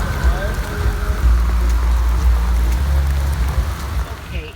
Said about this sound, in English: it is still raining like crazy